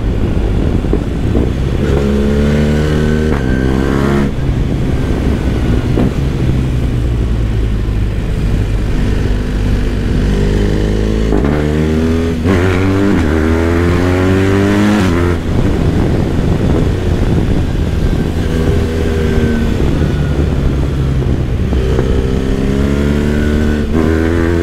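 A loud motorcycle engine revs hard close by, its pitch climbing again and again as it accelerates through the gears.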